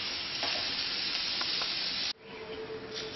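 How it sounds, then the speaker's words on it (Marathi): Onions roast in a pan for Malvani vatan, a steady dense sizzle close up that cuts abruptly partway, then a quieter frying hiss continues, with no talk. "आपला कांदा भाजून तयार आहे"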